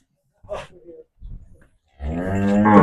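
A buffalo at a cattle sale in Tarn Taran lets out one long, loud, close moo after a couple of short, rough grunting sounds, with no voices between the calls.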